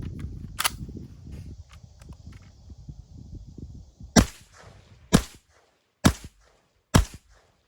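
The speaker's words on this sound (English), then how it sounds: "So let's shoot it a little bit more." A Zenith ZF-5, an MP5-style roller-delayed gun, fires four sharp single shots about a second apart, loud and close, after a stretch of low rumbling handling noise.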